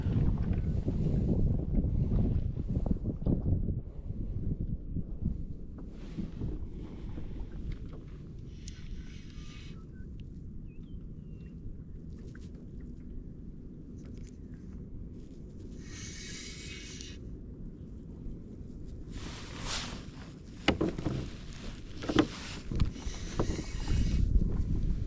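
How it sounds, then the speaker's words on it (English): A kayak paddles away from an oyster rack while fishing for bream, with soft intermittent paddle splashes and water swishes under steady wind buffeting the microphone, and no voices. "Just going to paddle a bit further away."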